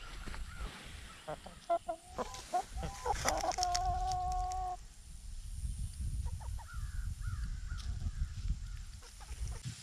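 Chickens and a rooster clucking and calling in a backyard space, several short bursts followed by a sustained tonal call in the middle, moderately close over faint outdoor background.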